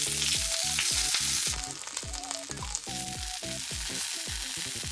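Green onion and ginger browning in oil in a pan, a steady frying sizzle that carries on under loud repeated rhythmic tonal hits that partly mask it.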